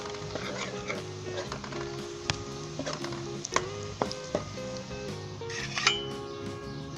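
Ginger and garlic fry with browned onions in a pot for Pakistani shahi chicken korma, a steady sizzle under repeated stirring clinks and scrapes of a spoon against the metal, close and continuous.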